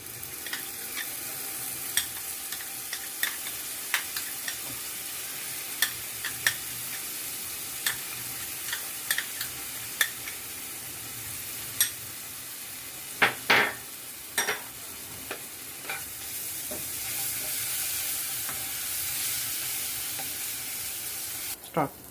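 Whole spices such as small cardamom and cloves frying in hot oil, a continuous sizzle with frequent sharp pops and crackles and occasional scraping stirs, fairly close.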